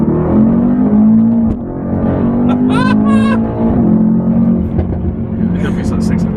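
A 2019 Mercedes-AMG E63S pulls hard from a 30 mph roll in second gear, engine note climbing through rising revs with a brief dip at a shift, loud inside the cabin while people talk over it.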